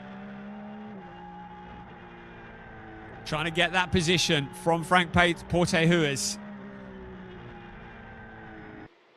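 Porsche race car engine heard onboard at the Barcelona circuit during a sprint race, a steady drone running under continuous commentary, with a louder stretch of rapid gear-change surges in the middle.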